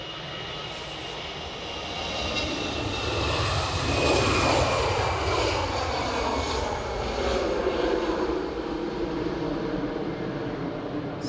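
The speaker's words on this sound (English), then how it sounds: "that departure was EasyJet Airbus A319 to Belfast" An EasyJet Airbus A319 departs Edinburgh Airport bound for Belfast, its jet engines swelling into a loud, sustained roar that rises and holds as it takes off, heard from outdoors with no talk.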